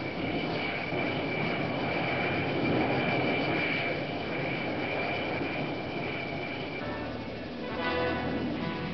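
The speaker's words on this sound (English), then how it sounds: "the S-3 recovers in an arrested landing, folds its slender wings and parks" Aircraft engine noise from an S-3 carrier plane after an arrested landing on an aircraft carrier deck as it folds its wings and taxis to park, a loud steady roar throughout with rattling mechanical texture near the end.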